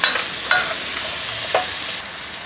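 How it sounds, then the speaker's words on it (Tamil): Spice powder frying and being stirred in a pan for mutton dhalca, a steady close sizzle with a few sharp scrapes of the spoon, no voices. "இந்த மாதிரி நல்லா மிக்ஸ் பண்ணி கொஞ்ச நேரம் அந்த தூளை வந்துட்டு வதக்கிடுங்க."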